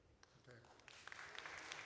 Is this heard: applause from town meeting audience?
yes